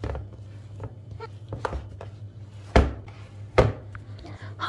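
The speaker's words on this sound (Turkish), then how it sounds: "Üzerine biraz un serperek hamurun havasını alacağım." Floured, risen yeast dough for spinach-filled bread is punched down, giving two dull, close thumps with a few lighter taps over a steady low background hum.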